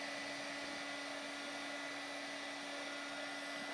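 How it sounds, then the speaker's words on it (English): A 3D printer running steadily in a room, a continuous hum with a fixed tone and broad whirring hiss, faint and unbroken throughout with no talk. "Can you guys hear the 3D printer working away over there?"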